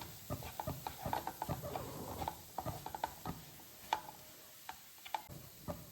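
Aval laddu mixture for a Gokulashtami offering being stirred together by hand, giving close, irregular clicking and scraping taps with soft rustling between them, and no voices.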